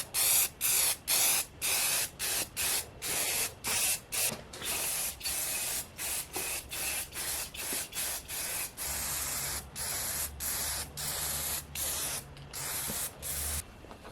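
Aerosol clear coat sprayed over a 3D printed helmet in short repeated bursts, each a loud steady hiss separated by brief pauses, with a low hum underneath toward the end.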